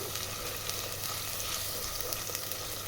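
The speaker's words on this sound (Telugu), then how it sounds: "వేసిన తర్వాత బాగా ఫ్రై చేయాలి" Ginger garlic paste and spices with turmeric frying in hot oil in a pan for mutton curry, a steady close sizzle with faint crackles, continuous and even, no talking.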